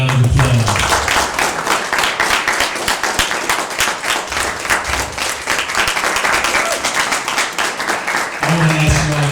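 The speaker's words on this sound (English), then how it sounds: "give Brother Richard another round of applause." Sustained audience applause fills a speaking event in Denver, a dense steady wash of many hands clapping close and loud, with voices cutting in at the start and end.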